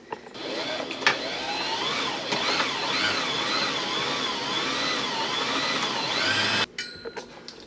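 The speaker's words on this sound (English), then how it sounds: "Right now I'm just threading the bobbin" A sewing machine winding a bobbin gives a steady mechanical whir for several seconds, then cuts off abruptly, leaving scattered clicks and handling noise.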